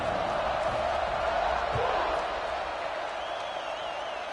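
Stadium crowd roar before a kickoff in an NCAA 26 college football video game, BYU versus Nebraska, a broad continuous wash of cheering at a steady level with a faint whistle-like tone near the end.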